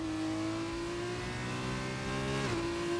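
A Formula 2 race car at the Sochi circuit powers smoothly out of a corner, its engine note climbing steadily as a loud, continuous high whine, with a quick gear change near the end before the pitch rises again.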